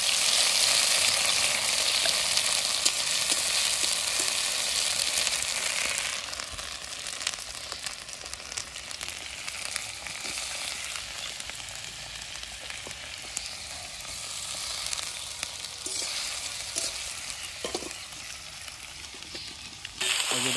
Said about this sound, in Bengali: এখন এই সবজিগুলোকে আগে ভাজি